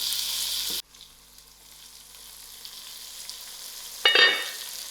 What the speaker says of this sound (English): I add in the tomatoes and lower my heat till my tomatoes are cooked out